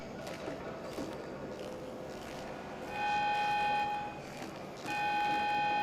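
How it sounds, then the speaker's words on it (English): A security alarm in the Grand Theft Auto Online heist game sounds as a steady electronic tone in two bursts over game noise, the first lasting about a second, the second starting near the end. "That alarm means security is gonna be on you any second."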